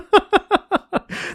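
A phone chirps five times in Dear Days 2 in a quick, even rhythm of bright tonal beeps, followed by a short burst of hiss.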